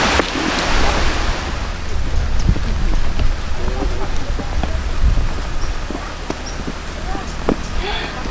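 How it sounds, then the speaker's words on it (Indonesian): Rain falling on a windy mountain hike near Gunung Padang in West Java, a dense, steady hiss of drops and gusts with scattered sharper patters, loud and close throughout. "Hujan"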